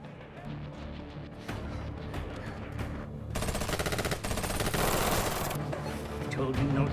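Rapid automatic gunfire crackles in dense, loud bursts during a violent film shootout in a corrupt town, mixed with a heavy score and effects.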